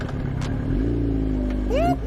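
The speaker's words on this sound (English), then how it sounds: "That's the sound of the police." A police car engine revs up close in a short, rising pull, with a voice speaking over it.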